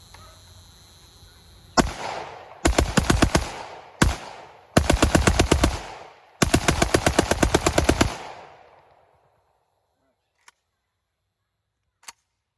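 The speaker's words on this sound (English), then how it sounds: "I'm going to break it in by bump firing it because I can" A Palmetto State Armory AK74 rifle bump-fires 5.45x39 rounds outdoors in loud rapid bursts, one single crack followed by several long strings of shots, then two faint distant pops.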